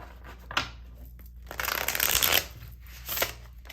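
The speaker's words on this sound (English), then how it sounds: "Give these one more good shuffle." Tarot cards riffle and shuffle in a few quick bursts, crisp and close, with one longer rustling shuffle in the middle.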